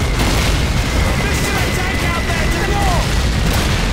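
Bombing explosions in the Call of Duty 2 video game, a dense barrage of booms and bursts under chaotic gunfire, loud and continuous, with a player shouting over the din.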